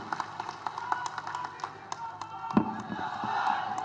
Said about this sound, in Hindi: तो दो तालियों से एक बार स्वागत चाहता हूं